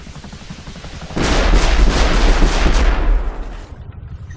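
A rocket launcher attack in the video game Rust hits as a sudden loud blast with a booming rumble. It roars on for about two seconds, then trails off and cuts to quiet. No voices are heard.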